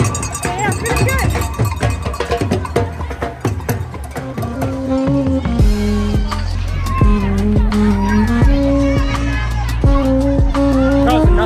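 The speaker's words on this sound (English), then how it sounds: "Crowds are nuts here." Roaring crowd of spectators lining the New York City Marathon course in Brooklyn, a loud continuous hubbub of cheering, shouting and clapping with a runner's voice talking over it up close.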